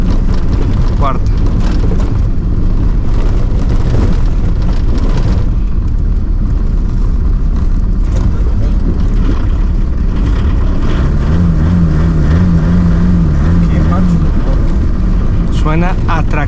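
A car with a broken engine rattles and rumbles as it is towed on a rope across Africa, a loud steady drone with wind buffeting throughout and people talking over it.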